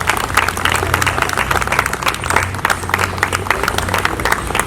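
An audience at a gathering for knee replacement patients gives steady, dense applause welcoming doctors onto the stage.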